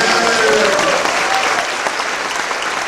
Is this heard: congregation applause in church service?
yes